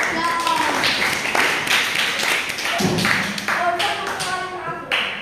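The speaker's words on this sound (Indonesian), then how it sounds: "Tepuk tangan untuk kelompoknya Rehan." Children in a classroom clap for a presenting group, uneven rhythmic hand claps close by, with voices talking over them.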